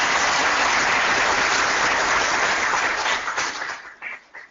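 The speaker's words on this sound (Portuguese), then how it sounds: "Dá uma salva de palmas." Audience applause at an agronomy talk on phosphate fertilizers, a full crowd of clapping that holds steady, then thins into a few scattered claps as it fades out.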